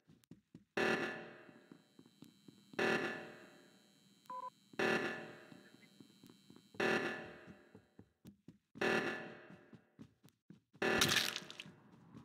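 Among Us reactor alarm blaring in repeated loud electronic bursts, about every two seconds, with a brief beep tone between blasts and no talk over it.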